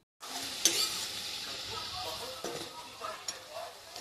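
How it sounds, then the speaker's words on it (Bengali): Small round banana flower balls fry in hot oil in a pan with a soft, steady sizzle. A few light stirring clicks and quiet clatters sound close by, with no talking over them. "এই যে ছোট ছোট করে গোল গোল করে সুন্দর করে আমরা ভাজাভাজি করে নিব সবগুলো"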